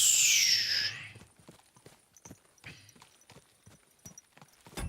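A soft burst of noise fades, then light hoof clops of a horse in the video game Kingdom Come: Deliverance 2 tap out an uneven walking rhythm, quiet and close.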